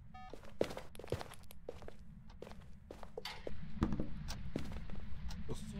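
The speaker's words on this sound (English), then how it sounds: "I listen to its footstep." Distinct footsteps of a ghost in a horror video game thud unevenly, some sharp and close, others softer, over a low rumbling game ambience that grows slightly louder toward the end.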